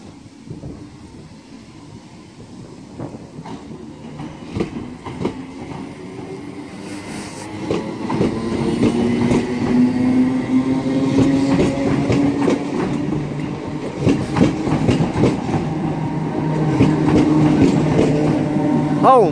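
A ScotRail passenger train on the Motherwell service passes through Carstairs station on the West Coast Main Line. Its steady low rumble and droning engine tone grow gradually louder and fuller as it nears, with faint rail clatter and no speech.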